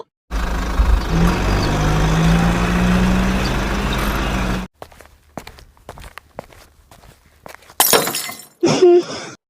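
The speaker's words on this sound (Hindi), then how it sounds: "हाँ वो ग्लास टूट गई।" A drinking glass breaks indoors, leaving a brief bright shatter and a couple of tinkling crashes near the end, after a loud stretch of rumbling noise and a few scattered knocks.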